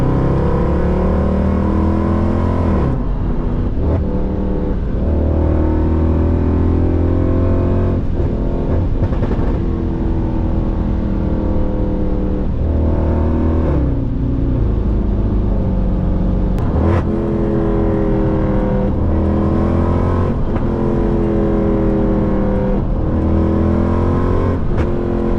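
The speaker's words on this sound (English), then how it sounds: "The exhaust is crazy when you're on it." A loud 2009 Mercedes-Benz W204 C63 AMG with a Eurocharged P30 tune roars continuously from engine and exhaust, revving and pulling through repeated gear changes as it accelerates hard at night, with some interior rattle.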